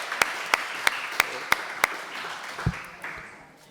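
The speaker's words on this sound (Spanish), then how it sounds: "Un aplauso también." A few separate, evenly spaced claps from an audience after a conference talk, sparse and fading rather than a full ovation, with a faint low thump near the end.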